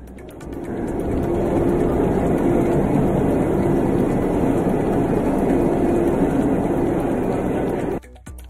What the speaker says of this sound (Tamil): சென்னை சென்ட்ரல் கோவை இடையிலான வந்தே பாரத் ரயில் வெள்ளோட்டம்.